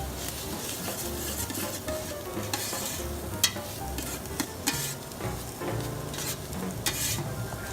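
Garlic stirred into a hot pan sizzles and fries steadily, with a spoon scraping and clinking against the pan in irregular bursts throughout.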